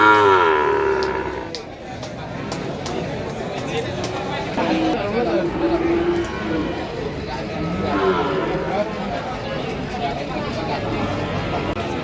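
Cattle moo at the Tuban cattle market in Indonesia, where PO cattle are sold. The calls are loud, drawn-out and repeated over a busy crowd, with people talking nearby.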